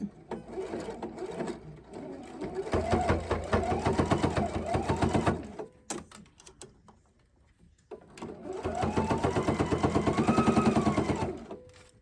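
A Husqvarna Viking sewing machine with a 5/8-inch binder attachment runs fast, stitching quilt binding in two long bursts of rapid, buzzing stitches with a brief pause between.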